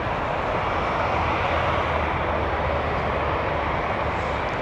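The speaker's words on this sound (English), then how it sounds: "Air Canada 159 lining up next. This one is off to Calgary. 7879 Dreamliner." Air Canada Boeing 787-9 Dreamliner lining up on the runway at Toronto Pearson airport, a steady broadband jet engine roar heard from a distance, constant and unbroken, with no talk.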